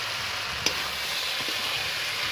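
Fried crabs sizzle in a pan after Kashmiri red chili powder goes in, a steady, even hiss with one brief utensil tap early on.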